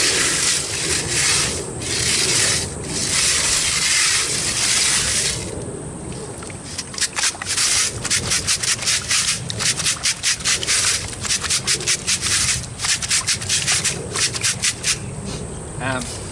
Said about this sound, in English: When I'm running my hand around the sieve like that, I'm actually pushing it through using the sieve as a kind of grater